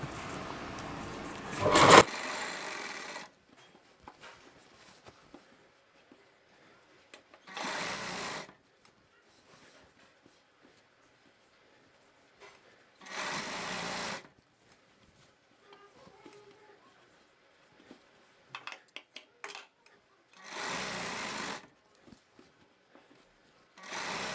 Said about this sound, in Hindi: यहाँ पे दोनों को लेस को बराबर रखते हुए हमें सिलाई लगानी है